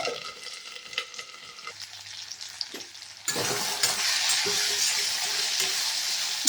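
Ivy gourd dropped into a pan of spluttering mustard seeds bursts into loud, steady sizzling frying at close range, after quieter crackling and clatter at the start.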